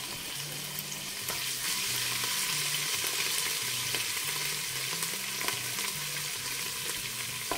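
Minced garlic and two bay leaves fry in hot oil, giving a dense, even sizzle that holds at a constant level throughout with faint crackling pops and no talk.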